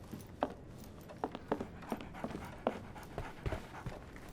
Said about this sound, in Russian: Так, тут собака.